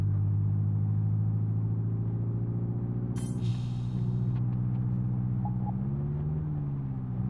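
VW Golf engine in Live for Speed held steady around 2000 rpm on a dynamometer, a continuous droning hum with a faint rise in pitch near the end, and brief clicks partway through.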